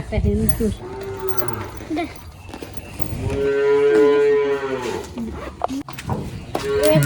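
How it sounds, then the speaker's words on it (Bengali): Cattle at a home barn moo loudly as their owner arrives: a couple of long, drawn-out calls close by, with a short pause between them. "গরু গুনা কান্দা ধরছে মালিক আইছে"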